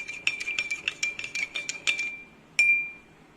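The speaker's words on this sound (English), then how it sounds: "Again I am stirring the solution." A metal spoon stirs salt solution in a glass, ringing out a quick series of bright clinks against the sides, then falls silent before one last louder clink that rings and fades.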